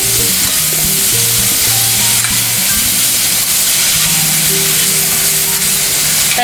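Vegetables stir-frying in a pan for hot and sour soup, a loud, steady, close sizzle and hiss with faint tonal clinks and rumbles beneath, no talking.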